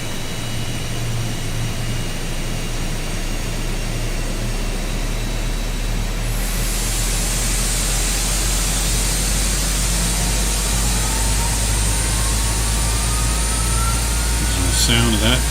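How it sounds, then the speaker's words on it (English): Airliner jet engine number 2 spooling up during start in the X-Plane 11 flight simulator, a steady loud roar with a rising whine that builds and holds near and continuous. "And let's start engine number 2."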